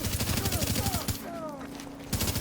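A deployed turret fires at enemies in The Division, letting off rapid, evenly spaced bursts of automatic fire that stop briefly and then resume. A voice talks over the shooting.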